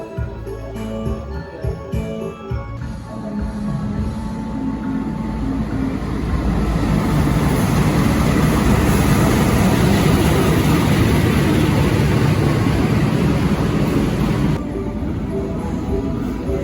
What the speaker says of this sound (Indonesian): Lagi nungguin kereta Surabaya dan kayaknya kereta kita.